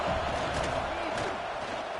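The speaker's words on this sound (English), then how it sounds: "This crowd bringing the energy and noise early" Football stadium crowd roaring early in a game, a dense, loud, sustained wash of many voices with no break, the noise slightly easing toward the end.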